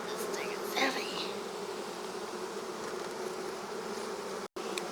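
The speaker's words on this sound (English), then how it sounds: "The bees get out of the way." Honeybees swarm around an open hive during a beekeeping inspection of a colony with no queen, a dense steady buzzing close to the microphone, continuous throughout with a brief dropout near the end.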